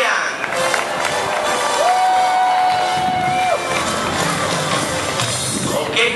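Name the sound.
crowd applause and cheering for a bungee jumper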